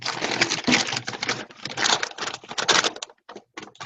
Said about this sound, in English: I'm rattling the paper of my sheet that I wrote today.